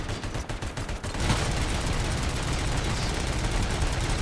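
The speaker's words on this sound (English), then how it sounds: "Get fucking melted by my machine pistol" Rapid machine pistol gunfire in the video game RoboCop: Rogue City, a loud dense burst of repeated shots followed by sustained combat noise.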